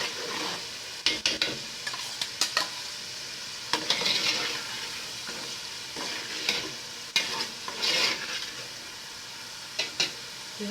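Jollof rice fried briefly with leftover stew in a pot, a constant sizzle broken by repeated bursts of spoon scraping and stirring clatter, close and without voices.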